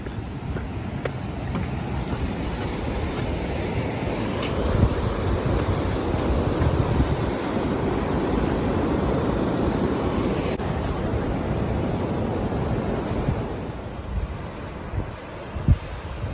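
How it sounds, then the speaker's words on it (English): A waterfall along the Pacific Crest Trail roars in a steady, broadband rush of falling water, continuous and fairly close, with occasional wind buffeting on the microphone and no talking. "Pretty gorgeous waterfall there."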